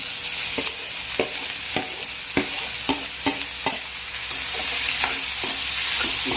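A capsicum and onion mixture for cheese bread toast is stirred in a sizzling pan, with about ten distinct scraping strokes at a steady rhythm over a continuous loud frying hiss, and no voices.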